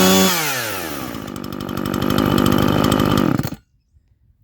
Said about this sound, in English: My trustworthy Husqvarna's chainsaw is now back in action